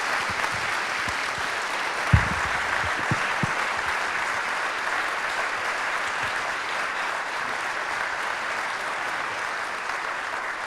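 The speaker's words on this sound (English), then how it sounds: "Would you please give them a huge round of applause?" A forum audience in Hawthorn applauds its election candidates, a steady, dense wash of clapping that holds evenly for about ten seconds, with one sharp louder clap near the start.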